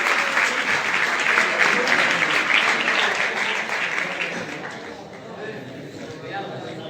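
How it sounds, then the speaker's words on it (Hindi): Loud, sustained applause from an audience at a school New Year program, a dense clatter of many hands clapping that fades slightly toward the end. "जोरदार तालियां बजाकर स्वागत कर दीजिए प्लीज"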